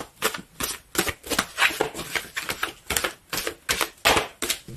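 Tarot cards riffled and flipped in quick, crisp bursts, a steady run of sharp papery snaps and slaps repeating about twice a second, close and clear with no talking.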